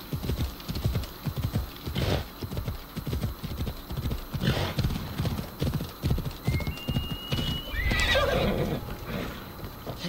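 A horse gallops hard in Assassin's Creed Odyssey, its rapid hoofbeats drumming steadily throughout while a loud whinny breaks out near the end, with brief background swells from the game.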